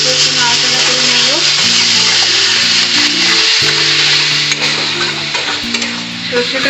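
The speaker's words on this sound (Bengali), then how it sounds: "বেশি ভাজবো না কারণ তেতো হয়ে যেতে পারে" Mustard paste frying in a pan while a mango shol fish dish is cooked, giving a steady loud sizzle throughout with occasional stirring scrapes over a constant tonal hum.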